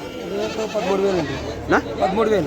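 Several goats bleat close by at a livestock market in wavering, overlapping calls, one sharper cry rising above the others.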